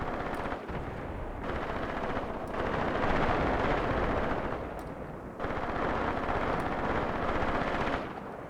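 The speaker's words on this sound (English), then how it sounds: "Okay, the mortars are starting to go." Muffled mortar and artillery fire rumbles in Graviteam Tactics, a steady roar of distant shelling with repeated heavier thumps and sustained booming across the whole stretch.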